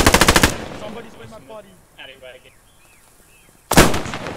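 Bursts of automatic gunfire in the World War II shooter Post Scriptum during urban fighting at Arnhem, a loud rapid volley at the start and another at the end with quieter distant battle noise and faint chatter between.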